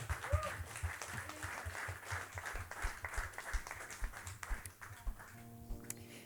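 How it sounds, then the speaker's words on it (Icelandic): A church congregation claps for the choir in a brief round of applause heard from a distance, with a voice speaking over part of it. "Ef ekki að gefa þeim aftur bara gott klapp"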